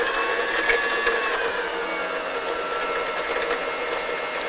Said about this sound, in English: when I put my foot on the foot pedal, the bobbin starts to spin around, and you can see the thread going up and down